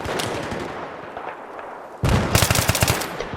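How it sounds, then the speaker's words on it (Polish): Gunfire crackles in Battlefield 3, a sniper firing on the players; a dull battle rumble runs first, then a loud dense burst of rapid shots fills the last second or so. "O, właśnie snajper w nas strzelał."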